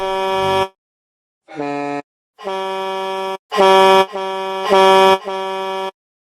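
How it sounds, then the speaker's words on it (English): A Super Bomberman 3 tune played on truck air-horn honks, loud and alone: one long blast, a pause, then a run of sustained honks at shifting pitches in a melodic, rhythmic pattern. "played in the style of truck horn honk"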